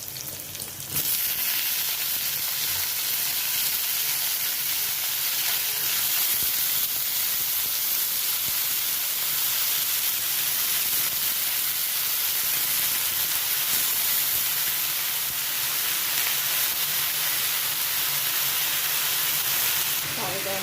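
Cut bitter gourd fries in a pan, giving a steady broad sizzle and hiss that runs without a break, with faint stirring and someone speaking quietly over it.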